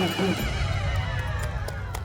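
A white horse neighs and whinnies loudly and close in a busy outdoor scene from a Hindi-dubbed South Indian action film, with a steady wash of background noise and a hint of hooves.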